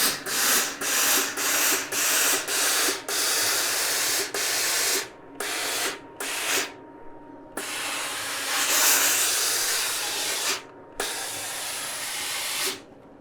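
A steam iron presses a skirt's seam allowance open, giving repeated loud bursts of hissing steam in short pulses, then longer sustained sprays, close by with no talking.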